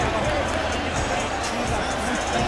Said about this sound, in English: Big ovation from the crowd